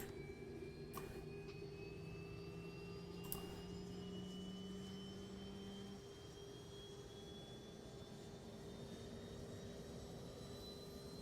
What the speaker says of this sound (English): You guys can kind of hear the APU firing up back there.